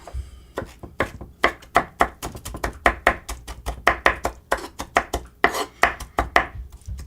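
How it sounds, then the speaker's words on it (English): A knife chops a tomato into very small pieces on a board in quick, rhythmic, close strokes, roughly a few cuts per second, with no one speaking. "This is the way I cut my tomato."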